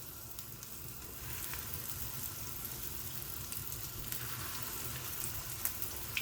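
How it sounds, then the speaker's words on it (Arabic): Steady crackling sizzle of qatayif dough frying in boiling oil, continuous and close, with occasional sharper pops. "لازم يكون الزيت يغلي زي هيك."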